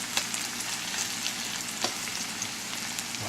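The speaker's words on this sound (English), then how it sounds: "I'm cooking the excess water out of the Swiss chard" Swiss chard and Vidalia onions sizzle steadily in a pan with a dense, even crackle and occasional small pops, close and alone.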